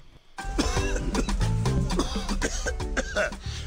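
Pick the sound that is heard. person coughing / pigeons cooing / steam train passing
person coughing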